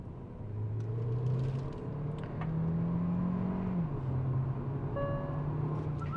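A 2023 Hyundai Verna SX (O) with DCT automatic gearbox pulls away from a standstill, its engine note rising smoothly with audible gear changes, a moderate rumbling hum heard from inside the cabin.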